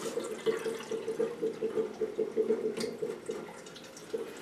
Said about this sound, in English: Then you just run a clear pot of water through the machine.